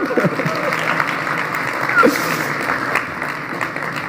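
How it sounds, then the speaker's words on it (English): Moderate audience applause at a smartphone launch event for the Xiaomi Mi A1, a steady spread of clapping in a large hall with faint murmurs and a brief chuckle. "You can applause, no problem."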